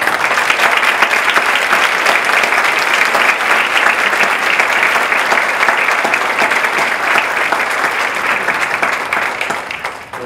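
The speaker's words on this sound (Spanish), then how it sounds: "Quisiera darles un aplauso más" A concert hall audience gives a youth orchestra sustained, loud applause, a dense wash of many hands clapping evenly that fades slightly at the very end.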